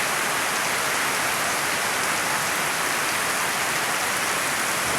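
Heavy rain pours steadily near a house, a dense, even hiss of drops on surfaces that holds unbroken and fairly loud throughout, with no voices.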